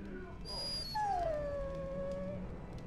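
A dog in a video game, Dragon Age: Origins, gives a single drawn-out whimpering whine that slides downward and fades, with a faint higher tone before it and quiet background ambience.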